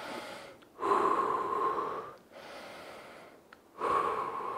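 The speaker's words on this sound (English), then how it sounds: "We're gonna breathe." Heavy, labored breaths after a home fat-loss workout set, three long, loud, close exhalations separated by short pauses, raspy and gasping with no talk.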